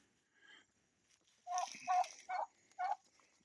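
Two turkey gobblers gobble in quick succession, several rattling calls in a row at moderate distance in a quiet outdoor setting, preceded by a fainter call.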